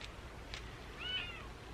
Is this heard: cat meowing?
yes